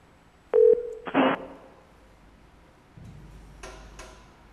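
Telephone dialing tones on a live radio call-in show as a caller's line connects: a couple of loud electronic beeps, then quieter clicks and faint line noise, with no talking.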